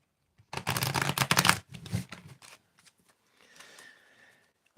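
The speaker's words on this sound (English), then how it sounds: "I'm gonna shuffle 3 times, riffle shuffle, and then I'm gonna overhand shuffle" A loud, rapid riffle of a card deck up close, then a few softer bridging flutters and light taps fading into quiet.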